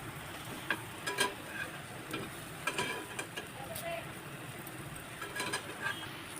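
Egg Bombay toast fries in a pan over low gas, a soft, quiet sizzle broken by scattered light scraping and clinking as it is turned.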